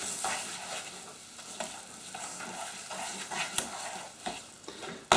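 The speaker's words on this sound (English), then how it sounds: "Now to give this a proper stir, I'm just going to grab the handle, turn it round." Chocolate melting in a pan for a chocolate brownie cake, stirred steadily, gives a soft continuous hiss broken by a few scraping spoon strokes around the pan, close up and without talk.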